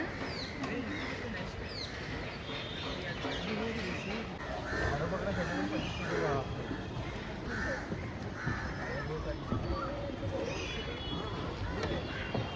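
Crows caw repeatedly amid a busy, noisy outdoor crowd on an elevated walkway in Mumbai, with voices chattering throughout.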